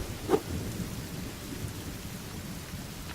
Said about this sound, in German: Blitzt und donnert.